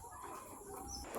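Faint, brief clucking of a chicken near a hen laying area on a farm lot in Liliw, Laguna, heard against quiet outdoor background.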